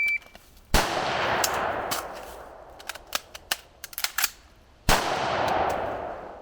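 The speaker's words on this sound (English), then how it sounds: "My bolt went forward as soon as I dropped the mag." A rifle bolt slams forward after the magazine drops during a timed reload drill, a sharp metallic clack followed by a burst of smaller clicks and rattles, with a second loud metallic snap near the end.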